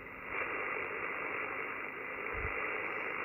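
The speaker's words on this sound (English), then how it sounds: "I'm going to turn the dial till we get a lot of noise." Steady hiss of radio static from an ICOM IC-705 tuned through a magnetic loop antenna, a constant broadband noise with no talking over it.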